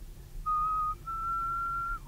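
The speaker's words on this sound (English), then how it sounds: "I tried to whistle like that" A person whistles a tune alone in clear, quiet surroundings: two pure sustained notes, a short one followed by a longer, steady held tone.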